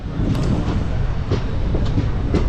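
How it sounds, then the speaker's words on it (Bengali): A passenger train pulls slowly out of Kolkata station, a steady loud rumble of wheels and carriages with faint clicks and brief squeals rising above it. "আর এই কলকাতা স্টেশন ছেড়ে বেরিয়ে এবার একটু আস্তে আস্তে আস্তে আস্তে আমাদের ট্রেন যাবে"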